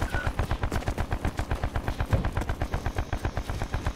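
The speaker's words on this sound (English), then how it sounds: "Oh, we're getting shot at." Rapid automatic gunfire from the Call of Duty Black Ops 4 Blackout battle royale, a sustained rhythmic burst of evenly spaced shots, loud and close, with no talk.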